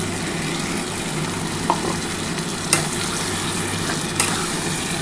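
Water poured into a hot pan while cooking prawns for a Bengali taro curry, a steady close sizzle and hiss with a few sharp clatters over the frying.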